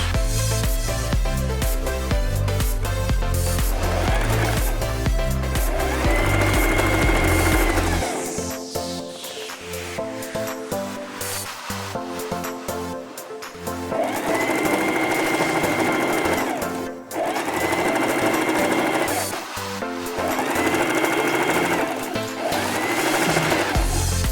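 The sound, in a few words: sewing machine sewing a back stitch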